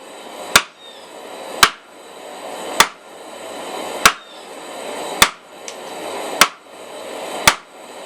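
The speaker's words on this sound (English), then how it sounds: "we're just going to take it down to the edge of the anvil and just work out that taper" Hammer blows on hot steel at the edge of an anvil, drawing out a taper for a leaf key chain: seven sharp, ringing strikes spaced about a second apart, close and loud, with no talk.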